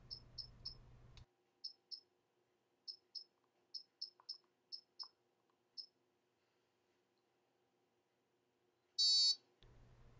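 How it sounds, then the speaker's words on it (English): Short high-pitched electronic beeps from a Theralase TLC900 therapeutic laser device, heard as a series of separate chirps at irregular spacing, fairly close and clear, followed by a longer steady tone near the end. "wait for the beep"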